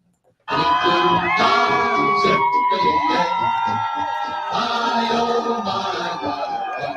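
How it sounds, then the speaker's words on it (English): Fans cheering at Splash Mountain's final ride rise suddenly into a loud, sustained mass of shouts, whoops and voices from a close crowd that never lets up. "I know cast members were riding it late and fans were cheering"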